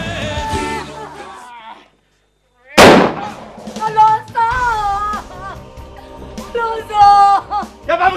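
Gunfire in a Mexican telenovela scene: a sharp loud burst cracks out after a brief silence, set among dramatic music and voices that continue around it.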